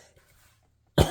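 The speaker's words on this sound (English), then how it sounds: "Clear my throat" A single sharp throat clearing, close and fairly loud, comes right at the end after near-silence in a quiet room while someone does paper crafting.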